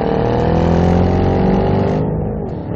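A Ford Shelby GT500 with 662 horsepower revs hard up close, its deep V8 roar swelling over a couple of seconds before the throttle lifts and the note drops back toward idle.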